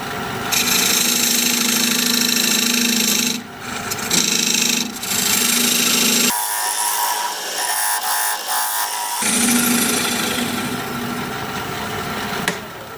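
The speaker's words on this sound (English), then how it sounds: "Then I'm going to use my dovetail tool," Dovetail tool cutting into spinning wood on a lathe, loud close scraping and rasping in sustained passes broken by short pauses, with no talk.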